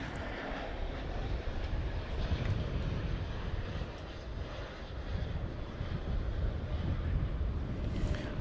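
A British Airways airliner on flight 193 from London Heathrow rumbles faintly at DFW Airport, a distant, steady engine drone with slight swells in level.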